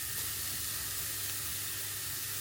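Onion and garlic, then celery and carrots, sautéing in a pan for a low-fat cottage pie, giving a steady soft sizzle and hiss throughout with no talking.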